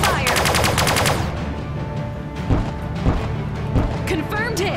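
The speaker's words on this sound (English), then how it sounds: "All cannons fire!" Ship cannons firing in the space strategy game Sunrider: a fast rhythmic barrage of blasts at the start, followed by scattered booms and impacts while a voice speaks over them.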